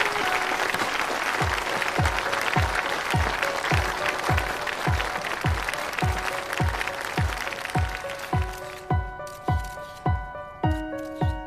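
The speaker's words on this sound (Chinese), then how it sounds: "接下来就让我们用掌声有请星云动漫 CEO 顾南舟顾先生，掌声有请" Audience applause welcoming a company CEO onto a stage at an event, a dense sustained clapping crowd that continues with rhythmic clapping in time with music and fades into scattered claps at the end.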